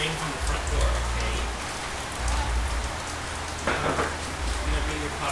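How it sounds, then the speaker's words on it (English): Steady rain falls outside, a dense even hiss of drops on surfaces heard from a front door, with faint low rumble underneath. "You can watch the rain from the front door, okay?"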